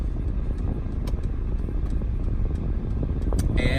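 A 2020 Mercedes-Benz GLE350 reverses into a parking spot, its low engine rumble and tyre noise droning steadily up close, with a few faint clicks near the end.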